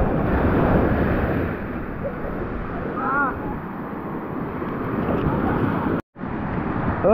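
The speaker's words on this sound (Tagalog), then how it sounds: "Alas 5:30 pa lang pero ganyan na po yung lakas ng alon." Heavy waves rolling onto a sandy beach around half past five, a loud, continuous roar of surf with wind gusts on the microphone, briefly cutting out near the end before resuming.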